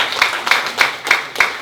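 After a National Foundation Day history lecture, the audience claps in unison: five loud, evenly spaced claps on a steady beat, crisp and close, with no voices over them.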